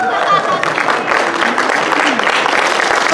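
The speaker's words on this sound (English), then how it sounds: "Until she stands, you have to keep applauding." Sustained applause from an audience at a masquerade ball gala, steady and full, with a voice calling out over the clapping.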